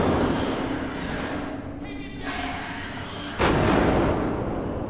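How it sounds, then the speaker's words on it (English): Gunfire in the survival horror video game Alien: Isolation, a loud blast erupting at once over a dark ambient rumble and hum, then lingering as a sustained roar to the end. "Oh, they're shooting it."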